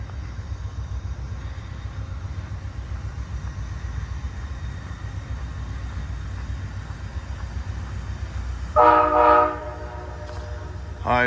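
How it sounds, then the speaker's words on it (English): A General Electric P42 diesel locomotive on an Amtrak train rumbles steadily nearby as it pulls away from Altoona, Pennsylvania, then its horn blasts loudly for about a second near the end. "General Electric diesel electric locomotive,"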